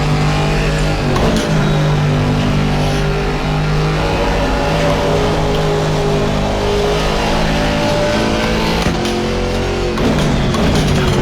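A race car engine in the racing game Assetto Corsa Competizione drones loudly and continuously, its pitch climbing as it accelerates, with a brief shift near the start and another near the end.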